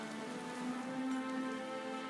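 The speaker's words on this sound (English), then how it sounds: "There's no point standing here in the rain." Steady rain falling in a game world in The Witcher 3, a constant even hiss with a faint tonal hum beneath, no voices.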